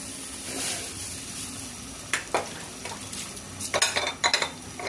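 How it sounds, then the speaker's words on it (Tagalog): Coconut milk goes into squash simmering in a pan with string beans and shrimp, a low sizzle under sharp clinks and scrapes of a utensil against the pan, picking up into quick bursts near the end. "So, ilagay na rin natin mga idol yung gata."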